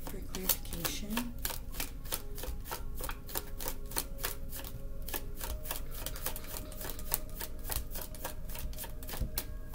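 Tarot cards are shuffled and drawn in a rapid run of crisp flicking riffles that carries on steadily throughout, with a faint background hum.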